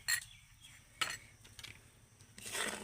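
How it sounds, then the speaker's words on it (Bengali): A spoon stirs sugar into chutney in a pan, making a few faint metallic clinks and scrapes spaced apart in a quiet kitchen, with a slightly longer scraping sweep at the end. "এবার আমি এইভাবে নাড়তে থাকবো"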